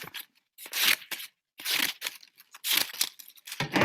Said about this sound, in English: Then you use scissors